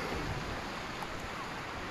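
Sea waves wash against the shore at Haji Ali Dargah in Mumbai, a faint, continuous hiss of surf mixed with wind buffeting the microphone, with no distinct breaking waves standing out.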